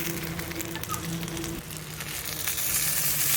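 Magur fish frying in a pan, set on leaves, makes a steady, close sizzle that holds for a few seconds and swells slightly louder toward the end.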